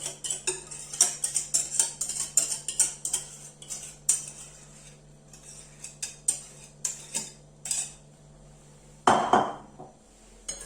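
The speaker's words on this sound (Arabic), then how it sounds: "غادي نخلطو هكا كامل، ديما نحركو على جهه باش ما يتهرش لنا داك البيض ديال البيض" Egg yolks and whole eggs beaten by hand in a bowl with a utensil: brisk, irregular metallic clinks and taps against the bowl, close and fairly loud, with a brief louder scrape near the end.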